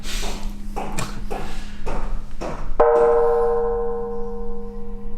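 A bell on Moobong Mountain, Pyeongtaek is struck gently after several dull knocks, giving one clear ringing tone that hums and slowly fades over a couple of seconds.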